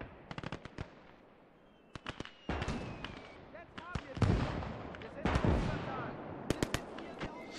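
Mortar and gunfire from the WWII video game Gates of Hell: Ostfront, a battle against Polish infantry at a forest edge, with sharp scattered blasts and bursts of shots, some near and some distant, while someone talks underneath.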